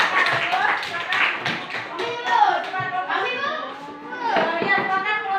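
Schoolchildren clap for a classroom group presentation, rhythmic and a bit uneven, mixed with children's voices and a teacher talking over the clapping.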